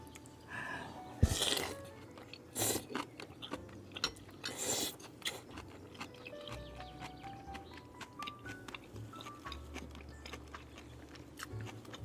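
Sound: eating crunchy food, biting and chewing

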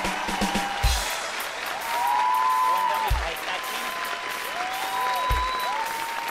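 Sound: studio audience applause

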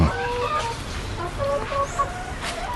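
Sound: chickens clucking

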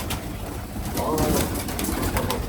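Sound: pigeons cooing

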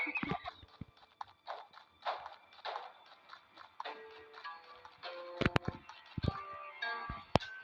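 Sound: horse galloping hooves in Ertugrul Gazi video game

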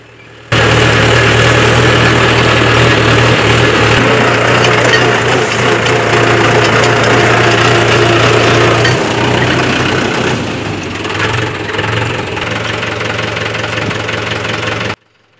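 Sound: tractor pulling a cart trolley

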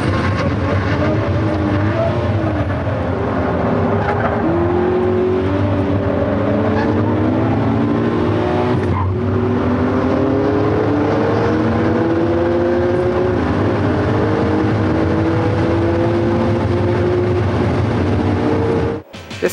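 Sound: car driving at full throttle on Suzuka Circuit

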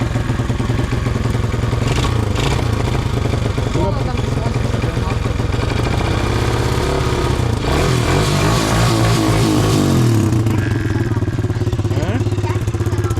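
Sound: pit bike engine revving

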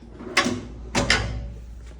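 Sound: tool cabinet drawer closing

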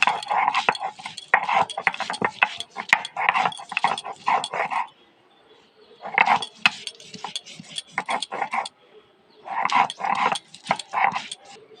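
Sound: grinding ginger and garlic together into paste

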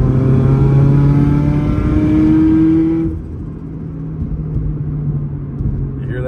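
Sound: turbocharged GR86/BRZ engine revving, air backing against throttle plate

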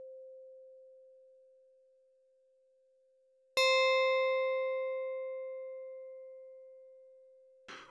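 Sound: FM synthesizer tone with plink component

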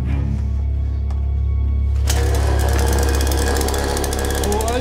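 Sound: saw engine running

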